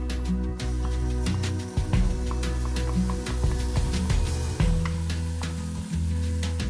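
Squash sautés in a pan with a steady, fairly loud sizzle throughout, accompanied by scattered stirring clicks and a sustained tonal background.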